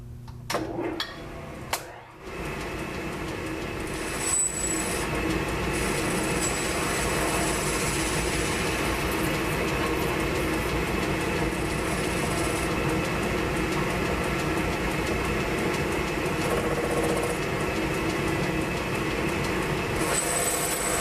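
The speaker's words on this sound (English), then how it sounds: "So now I'm going to turn this pan down to about 160." A metal lathe turns down a pin while building a Kennametal boring bar extension, giving a steady continuous machining drone with faint rubbing and squeal, alone and unbroken after a brief clatter at the start.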